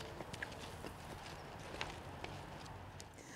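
Horses at a ranch in Barnstable walk with faint, scattered hoof clops over a steady outdoor background, rather distant and quiet.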